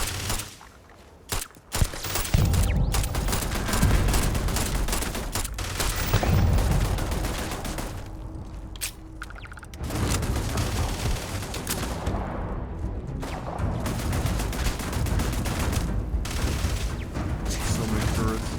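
Rapid automatic gunfire from turrets in the video game Starfield, sustained bursts of shots and booms filling most of the stretch, with brief lulls, loud and close, with a voice speaking over it at times.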